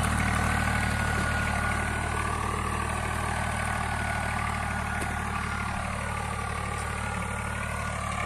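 A Swaraj 45 hp tractor, a 744FE or 742XT, drones steadily while pulling a cultivator through soil, its low engine rumble constant and close throughout with no break.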